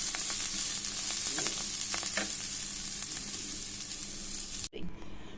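Spices sautéing in hot oil for a chicken kabab gravy, a steady close sizzle with light stirring clicks, cut off abruptly near the end into near quiet.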